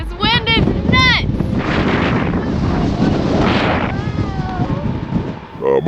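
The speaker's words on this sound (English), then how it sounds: "This wind is nuts!" Strong wind buffets the microphone while cycling across America, a loud continuous roaring rush with gusty surges, and a voice speaks briefly near the start.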